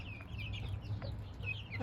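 Gurk hens cluck softly among their chicks, with thin high peeping from the young birds over a low steady background hum.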